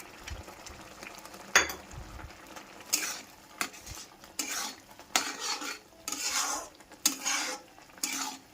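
Tomato chutney with sugar, cashews and raisins being stirred in a pan, with bursts of spoon scraping against metal over a soft sizzle, irregular and close, without speech.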